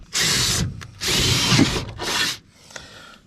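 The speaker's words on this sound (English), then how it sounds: "Let's drill some holes." A power drill bores a 23/64 hole through the metal of an overland rack in three loud sustained bursts with short pauses between them, then quiet handling noise.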